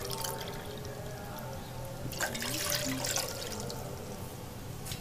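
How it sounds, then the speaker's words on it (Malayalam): Two cups of water poured into a pan heating on the stove for vegetable Maggi noodles, a soft continuous splashing and trickling that swells briefly midway, with no talk. "ഇതിലേക്ക് 2 കപ്പ് വെള്ളം ഒഴിച്ചു കൊടുക്കാം."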